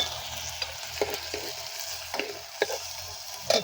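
Eggplant curry sizzles in a pan with a steady, moderately loud frying hiss, broken by occasional sharp stirring clicks and pops.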